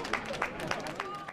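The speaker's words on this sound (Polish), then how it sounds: "Były skromne oklaski." Modest applause for French president Emmanuel Macron from a crowd at the international agricultural fair in Paris, a steady patter of scattered claps with crowd murmur, fairly distant and muted.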